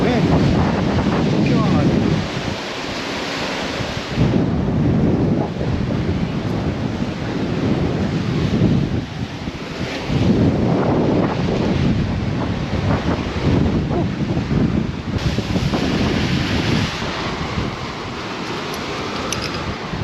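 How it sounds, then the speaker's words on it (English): Strong wind buffets the microphone at a seashore, roaring steadily with surf crashing in between gusts. A voice speaks briefly over the din. "Oh, this wind."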